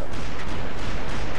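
Dense, continuous battle noise of gunfire and explosions in the violent Western video game Call of Juarez, a loud, broadband roar with no distinct individual shots standing out.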